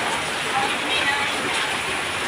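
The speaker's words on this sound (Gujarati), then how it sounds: "વરસાદ ધોમ ચાલુ છે અત્યારે।" Heavy rain pours down in a steady, dense hiss that stays even throughout, with no clear voices rising above it.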